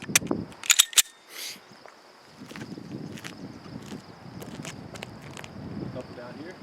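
Sharp pistol gunshots from a striker-fired handgun, such as an HK VP9, Sig P320 or Walther PPQ, at an outdoor range: a quick cluster of loud close cracks near the start, then quieter rustling and movement.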